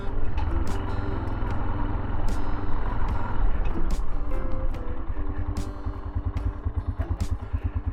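A Tekken 250 motorcycle rides along a rough field road, its engine droning steady and close with a rhythmic low throb, overlaid by rattling and clatter from the bumpy surface.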